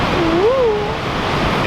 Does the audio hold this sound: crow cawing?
no